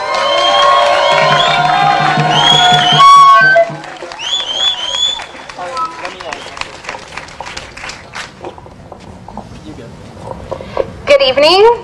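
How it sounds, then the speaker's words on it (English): Outdoor protest rally crowd cheers and whoops loudly for an upcoming speaker, a dense roar with shouts and whistles, then quieter scattered noise with voices talking before another loud burst at the end. "really give a big round of applause"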